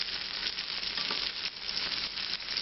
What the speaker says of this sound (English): the purpose of it here is going to be to get the butter melted and the onion and the garlic started to cook